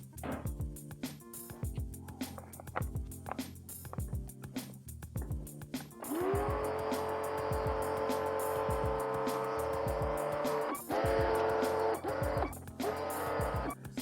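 A Muc-Off pressure washer with its bike lance rinses a bicycle, a steady loud hiss of spraying water running continuously from about six seconds on after earlier clattering and knocking.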